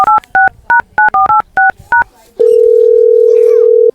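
Eight quick touch-tone beeps as a phone number is keyed in, followed by a steady ringing tone, loud and close.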